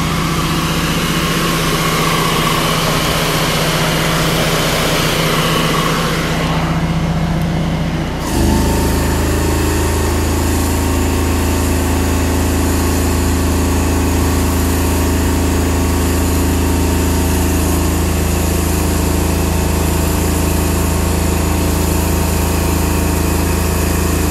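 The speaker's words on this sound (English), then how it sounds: "now let's kick it up and turn the pump on" A pump in a downstream soap and bleach mixing assembly kicks on partway through, replacing a lighter whine with a loud, steady motor drone that holds unbroken and close for the rest of the stretch.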